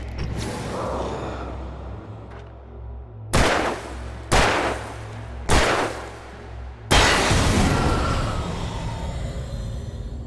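Four loud, sharp gunshots in the video game Alan Wake Remastered, fired about a second apart, each with a brief ringing tail, over a low droning ambient rumble and followed by a sustained noisy wash.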